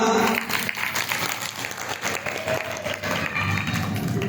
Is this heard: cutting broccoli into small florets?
no